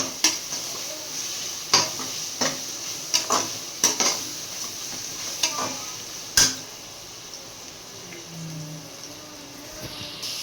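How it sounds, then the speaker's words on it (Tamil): Ginger, garlic and tomato sauté in a pan for biryani, with a soft steady sizzle broken by several sharp scrapes and clanks of a spoon stirring against the pot. "பச்சை வாசனை போகிற அளவுக்கு வதக்கணும்."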